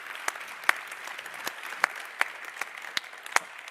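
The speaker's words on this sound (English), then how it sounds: "Would you join me in a round of applause for our leadership?" At a conference closing ceremony, sparse, quiet applause comes from a small number of people, about ten distinct claps spaced unevenly over a few seconds rather than a full ovation.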